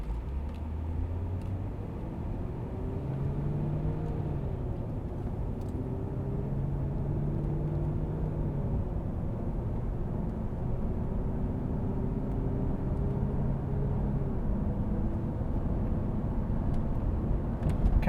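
A 2002 Jaguar XKR pulls away and drives on a road in Las Vegas, with a steady low engine drone and rising, shifting tones through the gears, plus a constant rumble of tyres and road noise throughout.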